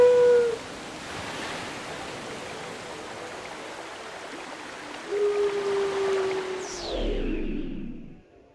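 Steady rushing water current in the video game Twilight Princess, a broad continuous wash with a brief tonal game sound near the start and another midway, fading out at the end.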